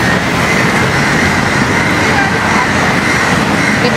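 Rumble of an MRT metro train at Raffles Place station in Singapore, a steady loud rolling roar that fills the whole clip with a constant hiss and no pauses.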